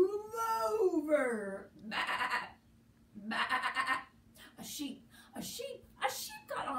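A voice imitates a sheep's bleat with a wavering, quavering tone, followed by more expressive vocal sounds and brief bursts of speech.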